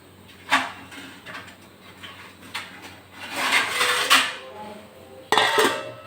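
A steel plate set over a pot of soaking rice for drumstick leaf dal, a few sharp metallic clinks and clatters, close and loud, spaced out across the moment.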